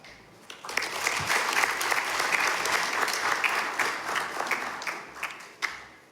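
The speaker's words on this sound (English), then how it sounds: "Let us all start by giving you" A crowd bursts into steady applause, many hands clapping together at moderate distance, swelling quickly and tapering off toward the end.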